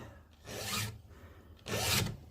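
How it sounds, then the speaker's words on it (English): A hand file rasps across a chainsaw chain tooth in two distinct strokes, each a harsh, close scraping sound lasting under half a second, separated by a brief pause. "holding the file like this will start to grind off the point"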